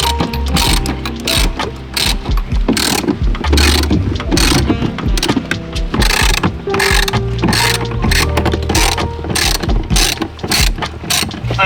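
A ratchet wrench removes bolts during air conditioning service on a 1994 Toyota Celica GT: loud, close, rapid clicking of the pawl in quick bursts, broken by brief pauses and metallic clunks, with no talking.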